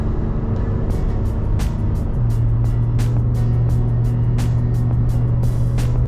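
A Toyota Tacoma pickup climbs a hill, its engine droning steadily and close, with a held tone that rises and settles partway through and faint clicks scattered over the rumble; no one speaks.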